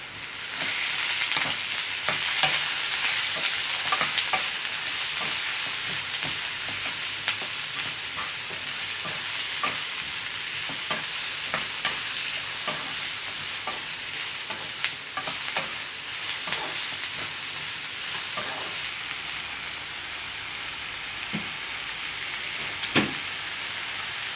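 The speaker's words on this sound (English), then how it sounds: "Now we're adding some garlic, onions, those green chilies all together, and now so that they all cook together now" Garlic, onions and green chilies frying together with bitter gourd in a pan, a continuous loud sizzle broken by frequent scraping clicks of a spatula stirring, easing off slightly near the end.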